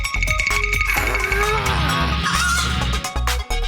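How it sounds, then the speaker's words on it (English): Cartoon chicken in a children's animated monster truck show clucks and squawks in honking, goose-like bursts over a busy background music bed, loud and close throughout. "That's not a turkey, Boom Boom. Huh? It's a chicken"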